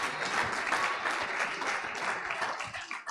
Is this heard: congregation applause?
yes